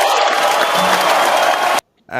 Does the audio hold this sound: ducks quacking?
no